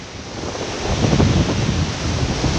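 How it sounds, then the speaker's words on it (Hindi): Glacial snowmelt river water, grey and silty, rushes under a road bridge linking two mountain villages, a loud continuous roar mixed with wind buffeting the microphone. "ये पानी आगे थालेब्रोक से आ रहा है। थालेब्रोक साइड से पहाड़ों से बर्फ़ पिघल कर आ रहा है।"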